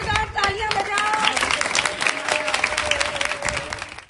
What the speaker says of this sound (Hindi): पहले तो जोरदार तालियां बजाओ।